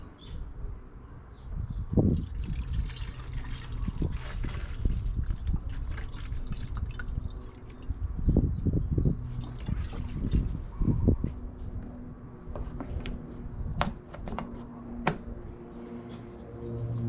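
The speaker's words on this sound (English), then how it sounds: "I'm gonna top off the coolant reservoir." Coolant pours into the reservoir of a 2002 Toyota Highlander, a steady liquid trickle broken by splashy drips and small clinks, close and fairly quiet.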